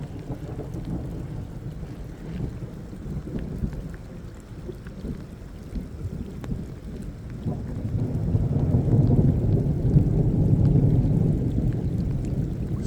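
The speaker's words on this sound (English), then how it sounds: "Starting to rain a little bit harder." Rain falls steadily during a thunderstorm while fishing from a boat, a continuous wash of patter with low thunderous rumble, growing heavier and louder toward the end, with some wind buffeting.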